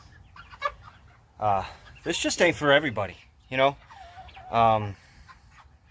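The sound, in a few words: meat chickens clucking in chicken coop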